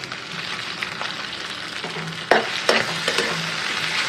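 Macaroni is tipped into a pan of fried egg, onion and green chilli and stirred, producing a soft continuous sizzle that jumps louder as the pasta lands, followed by a few scraping stirs.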